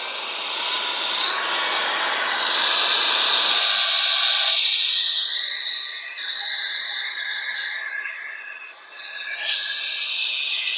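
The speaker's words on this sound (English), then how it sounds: "we're just going to blow out this filter" Saker handheld 3-in-1 car vacuum running on its highest speed in blower mode, blowing out its filter: a loud, steady high-pitched whine and airy rush that thins out partway through, with slight shifts in pitch, and no talking.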